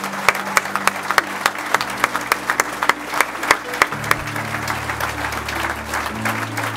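Sustained applause from an award ceremony audience for the Supporting Organisation of the Year winner, steady dense clapping with sharp individual claps standing out, a low hum underneath and faint voices.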